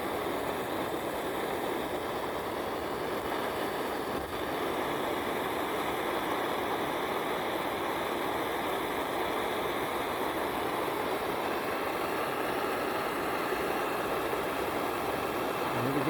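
An M-1942-MOD field stove roars on its first run in decades, a steady, even burner rush that continues without break, fairly soft and unaccompanied by talk.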